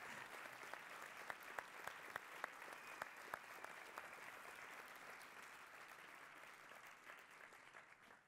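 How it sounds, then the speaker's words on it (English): Sustained audience applause at a float conference, a dense steady wash of many hands clapping with a few sharper nearby claps standing out, holding level for about eight seconds before tapering slightly at the end. "And now you can applaud."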